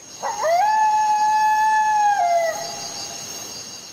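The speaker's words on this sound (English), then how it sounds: "he started howling back at the pack." A single drawn-out jackal howl rises sharply, holds a steady wavering tone for about two seconds, then slides down and fades, loud and alone with no talk.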